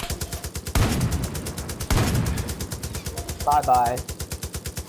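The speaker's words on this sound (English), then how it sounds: "Bro, I shot him 15 times!" Rapid repeated gunfire in Far Cry, steady rhythmic shots running throughout with two heavier bursts, loud and close, with a player speaking briefly over it.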